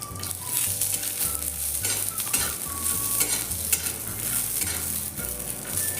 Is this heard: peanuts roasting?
yes